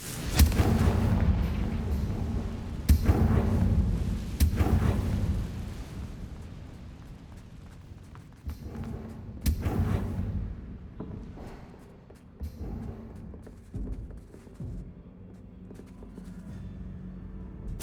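Confringo blasting spell in the video game Hogwarts Legacy: a series of heavy, booming explosions bursts out in loud clusters, with rumbling decays between the blasts and quieter stretches later on.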